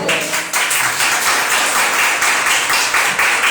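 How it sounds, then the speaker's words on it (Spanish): Church congregation applauding together, a dense sustained clatter of many hands clapping with a rhythmic pulse, loud and fairly close throughout. "Denle la gloria y honra a Dios con un aplauso."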